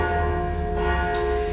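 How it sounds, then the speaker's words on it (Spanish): A church's bells ring out continuously to call people to Mass, their layered, sustained tones hanging evenly at moderate level, a brief brighter strike near the end, no talking. "ya sabemos por quién repican las campanas."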